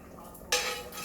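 Ground beef is stirred in a cooking pot of hot water while chili is made at home, heard as a single sudden scrape and clatter of a utensil against the pot, followed by a fading hiss.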